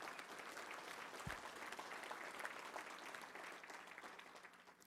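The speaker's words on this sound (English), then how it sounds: "Let's give them all a round of applause if you don't mind." Steady applause from a large crowd, sustained clapping that fills the room evenly before easing off slightly at the end.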